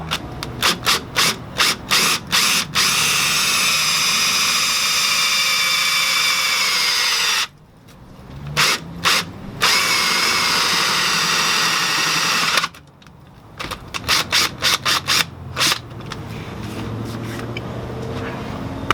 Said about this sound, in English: After you center punch it, you're ready to drill.